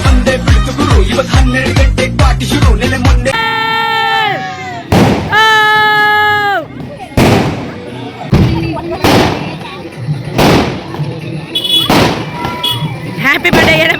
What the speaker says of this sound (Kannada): ಅಲ್ಲಿ ಪಟಾಕಿ ಹೊಡಿತಾವ್ರೆ